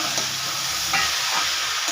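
Fried potatoes and banana flower are stir-fried in a pan for prawn and banana flower curry, giving a steady sizzle with quick scraping stirs, close and alone.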